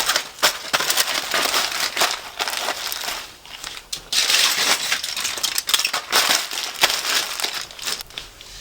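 Coloured curly hair is wrapped up, probably in plastic or foil, giving close, loud crinkling and crumpling in irregular bursts with brief pauses.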